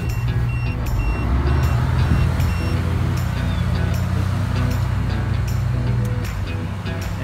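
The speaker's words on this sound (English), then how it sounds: "a big tractor comes and gets you and puts you out into the water" A big tractor launches a boat into the water in Alaska, its engine rumbling steadily and loudly throughout, with faint repeated reversing beeps riding high above the drone and surf.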